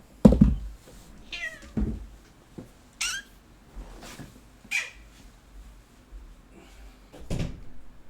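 Indoor cat meowing several times in short, rising cries spread across the stretch, mixed with knocks and cupboard or door bumps, close and moderately loud with no talking.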